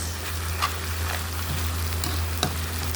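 Beef skin sisig sizzles and fries steadily in a pan, a continuous close crackle with a few sharper pops and stirring scrapes, no voices.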